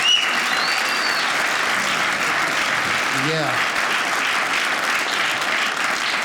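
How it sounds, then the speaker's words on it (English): A comedy club audience at a stand-up special claps in a full, steady round of applause for several seconds. One voice speaks briefly over it. "Give her a round of applause."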